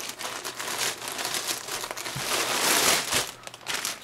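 A plastic package holding bib trousers with suspenders is eased open along a glued seam, giving a close, continuous rustling and crinkling that rises and falls as it is handled, with no voices.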